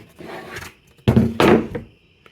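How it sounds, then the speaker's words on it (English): Screws being driven into pallet wood boards to fasten them together: a couple of short grinding, creaking bursts of wood under strain, close and fairly loud, with quieter scraping between them. "let's screw them onto the boards to hold them together"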